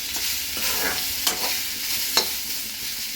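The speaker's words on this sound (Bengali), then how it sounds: "একটু নেড়ে চেড়ে গরম জল দিয়ে দেব।" A spatula stirs food around a pan over a soft, steady sizzle, with a few sharper scrapes and clicks against the metal standing out.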